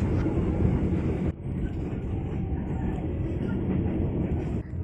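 Inside a crowded Motis Selatan passenger train running from Jakarta to Bandung past Purwakarta station: a loud, steady rolling rumble of the carriage fills the whole stretch, briefly dipping once early on before carrying on without talk.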